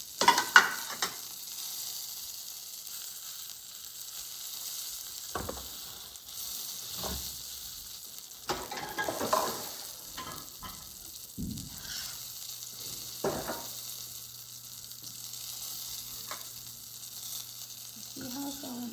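A Chinese meat pie fries in a pan with a steady soft sizzle, broken by occasional clicks and scraping knocks from handling the food, close by and without talk.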